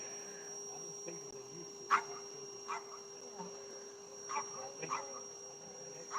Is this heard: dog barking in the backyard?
yes